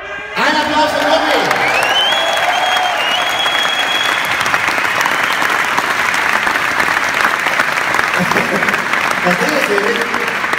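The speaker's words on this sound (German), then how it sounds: "Ein Applaus für Nobby!" A crowd at a live car-scene event applauds for Nobby, a fan of red VW Golf 4s, with loud, dense clapping and cheering that runs steadily for about ten seconds, a voice calling out over it near the start.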